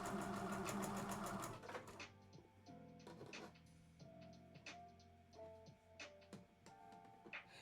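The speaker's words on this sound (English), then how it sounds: "I did sew right over that straight pin." A sewing machine stitches a child's dress and runs over a straight pin. A loud, fast mechanical whir stops abruptly and gives way to quieter, irregular clicks and taps up close.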